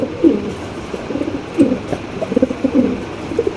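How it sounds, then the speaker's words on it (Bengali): A large pair of jet-black king pigeons coo close by, with soft repeated throaty murmurs rising and falling in short bursts. "এখানে কিন্তু বিগ সাইজের একজোড়া ব্ল্যাক কিং কবুতর দেখতে পাচ্ছি আমরা, একদম কালো কোচকোচে"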